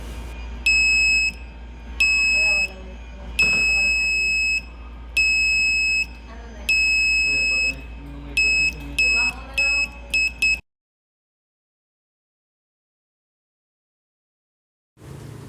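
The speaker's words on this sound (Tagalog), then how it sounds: "we made a melody player using the buzzer" An Arduino buzzer playing a melody in a series of bright, steady electronic tones of varying lengths, then falls silent, with faint background noise underneath.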